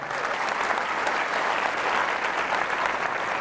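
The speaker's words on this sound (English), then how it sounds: "why don't you give yourself a round of applause for that" Audience applause at a charity presentation during a Christian concert, dense, steady clapping from a crowd that holds at full strength throughout, with no voices over it.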